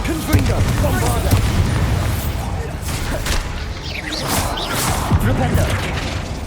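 Booming spell blasts and crashes from Hogwarts Legacy combat, a dense continuous barrage of impacts and whooshes with voices calling out spells throughout.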